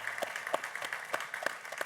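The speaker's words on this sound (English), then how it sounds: "If we could just get a round of applause for Chris." A business conference audience gives a round of applause, a fairly quiet but continuous scatter of many hands clapping with distinct individual claps poking through, heard from a distance in the hall.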